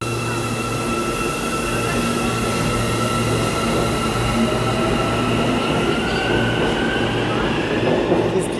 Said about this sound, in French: on a pris notre premier métro ici au Kazakhstan